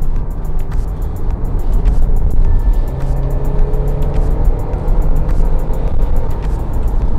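A Subaru Forester with a horizontally opposed engine drives in Sport mode, a loud, steady engine drone and road roar heard from inside the cabin throughout, with no talk.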